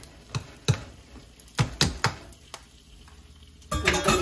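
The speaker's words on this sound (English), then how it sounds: "And I'm going to give that a stir around." Spoon stirring cooked pasta into tomato spinach soup in a pot, a series of sharp scraping clacks and knocks spaced irregularly, with a short busier burst at the end.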